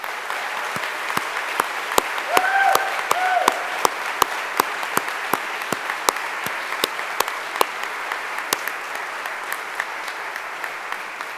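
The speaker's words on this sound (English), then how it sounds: "I'm thrilled to lead a round of applause in her honor." An audience at a reunion alumni awards ceremony applauding, a steady, moderate patter of many hands clapping in a large room with a few louder individual claps standing out, with a brief voice under it early on.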